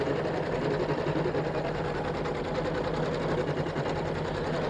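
A sewing machine stitches a quilt in continuous free-motion embroidery, running as a loud, steady, rapid mechanical hum with fast rhythmic needle pulses close by, with no talking over it.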